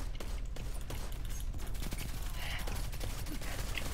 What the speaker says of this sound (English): I haven't been able to test this gun yet.